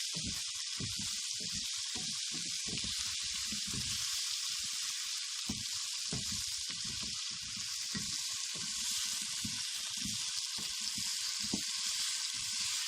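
Turnip curry sizzles in a pot, a steady bright hiss of frying with irregular low bubbling and popping underneath, close and continuous throughout.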